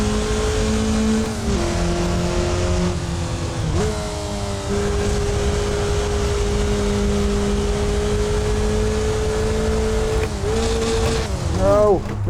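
A race car engine in a VR racing sim holds a steady drone, with a missed gear shift and the motor dying toward the end as the pitch wavers and drops, mixed with road noise.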